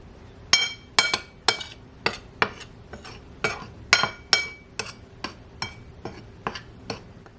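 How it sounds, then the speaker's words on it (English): A utensil mixes dry ingredients for Irish einkorn scones, including a pinch of salt, in a bowl. It makes a rhythmic run of bright clinks and taps against the bowl, close and clear, about two per second. "So I just want to mix up the dry ingredients here in this bowl."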